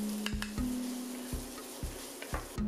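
Whole hot peppers with their seeds, Carolina Reaper among them, dropped into a pan of frying spices for a black chickpea curry: a steady sizzle with a few sharp clinks and stirring scrapes, close and unvoiced.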